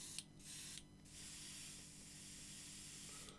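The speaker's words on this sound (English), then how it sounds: "I'm just looking at the spray off the tip of my needle, and it looks quite even. Just letting it blow itself through." An airbrush blows paint through its needle tip in a steady, even hiss, with two short louder bursts near the start before settling into a continuous spray.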